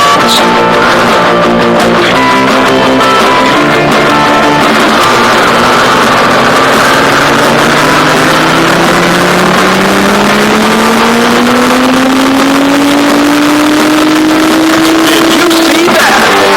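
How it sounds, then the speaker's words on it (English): Race car engines in a car racing video game start and rev, a loud, continuous engine roar with a rising whine that climbs steadily in pitch as the cars accelerate, close and dense with overlapping motors. "Gentlemen, start your engines."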